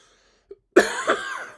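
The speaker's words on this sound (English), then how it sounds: "I apologize for the cough, guys." A single harsh cough up close, preceded by a brief small click, in an otherwise quiet room.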